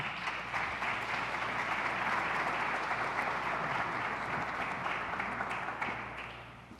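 Sustained applause from an audience at a government public safety event hosted by New York Governor Hochul, a dense, steady roar of many hands that stays loud throughout and tapers slightly at the end.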